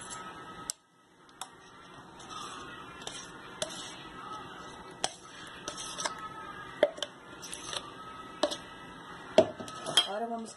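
Thinly sliced beef being mixed by hand with yogurt, ground poppy seeds, salt and spices, with repeated sharp clicks and taps of a spoon on a bowl over a steady low background, close and fairly quiet.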